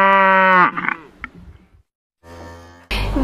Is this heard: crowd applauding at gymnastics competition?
no